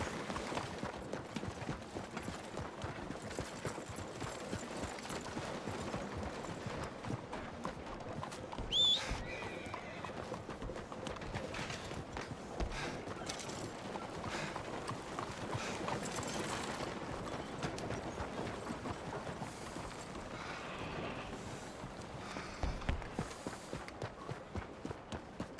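A horse galloping in the video game Red Dead Redemption 2, with steady rapid hoofbeats throughout, moderately loud and continuous, a brief whinny-like cry partway through, no talk.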